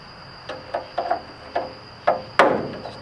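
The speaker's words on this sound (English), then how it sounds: "just tapping on the mechanism." Hammer tapping on a stuck mechanism of a 1927 Ford Roadster under restoration, a series of sharp metallic knocks at irregular intervals with the final strike loudest, close up over a steady faint whine.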